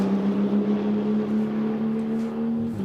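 A Mercedes AMG GT race car in a GT2 European Series race at the Red Bull Ring crosses the finish line, a loud, steady engine drone holding one pitch with no voices.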